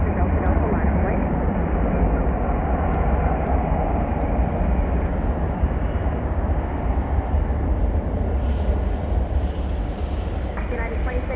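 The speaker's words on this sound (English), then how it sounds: "here goes Air Lingus off to Dublin, Ireland" Aer Lingus airliner taking off from Chicago O'Hare bound for Dublin, heard as a loud, continuous broadband jet roar that stays steady throughout.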